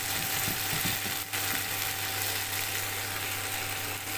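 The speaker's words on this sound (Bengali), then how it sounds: "আমার পটল আলু চিংড়ি সবই ভাজা ভাজা হয়ে গেল" Pointed gourd, potato and prawns fry in a pan with a constant sizzle. A few quick scraping stirs sound near the start.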